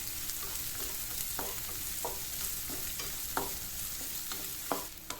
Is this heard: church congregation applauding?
no